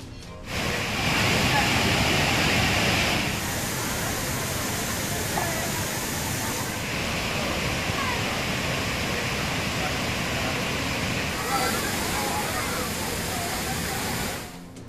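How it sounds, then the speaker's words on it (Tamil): Water roars down the Thirparappu waterfall in a thick, constant rush of white noise. The sound is loud and close and shifts slightly in tone across a few cuts. "திற்பரப்பு அருவியில் ஆர்ப்பரித்து கொட்டும் தண்ணீர்."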